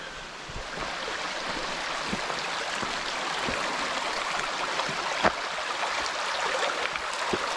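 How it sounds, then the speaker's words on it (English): A mountain creek near a trailhead rushes steadily, a close continuous watery hiss with small splashing accents and no voices. "Beautiful creek."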